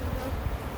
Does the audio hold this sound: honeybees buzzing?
yes